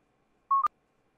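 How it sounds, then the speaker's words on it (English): OBS stream-start alert: a short synthetic tone followed by a slightly higher blip with a sharp click, quick and fairly soft, alone in near silence. "and then the stream start one sounds like this"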